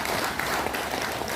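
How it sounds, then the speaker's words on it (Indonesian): An audience at a book launch event applauds, a brief, even burst of many hands clapping at moderate volume. "Ini patut mendapatkan tepuk tangan."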